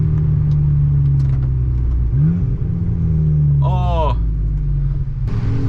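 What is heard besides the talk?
VW Golf GTI with 3-inch straight pipe exhaust downshifting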